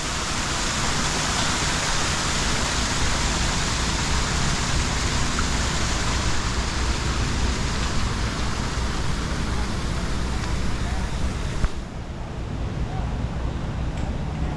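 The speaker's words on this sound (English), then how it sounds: "We have the waterfall right here." A waterfall in a city park beside a farmers market in Knoxville, Tennessee, gives a steady, loud hiss of rushing water that drops and thins abruptly near the end.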